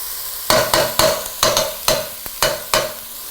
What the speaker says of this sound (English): this looks like the onions are cooking enough